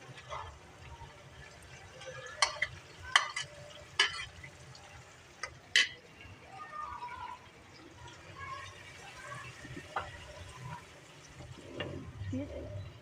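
Marinated minced mutton keema cooking with softened tomatoes in a pan, with a low steady sizzle under repeated sharp scraping clinks of a spoon stirring against the metal, close and fairly quiet.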